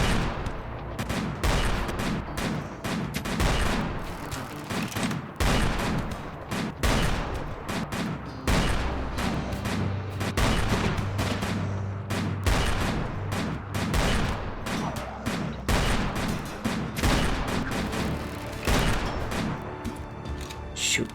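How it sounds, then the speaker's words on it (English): Enemy gunfire rattles in steady, rapid bursts of shots, loud and continuous with heavier booming impacts, and a voice speaks now and then underneath the shooting. "enemy shots coming our way"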